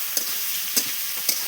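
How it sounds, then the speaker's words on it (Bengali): Tomatoes fry in a spice masala on a clay stove, giving a dense, steady sizzle close by, with three soft stirring strokes spaced through it and no voices. "এবার টমাটারগুলো দিয়ে দিচ্ছি, টমাটারটা ভালো করে ভাজবো।"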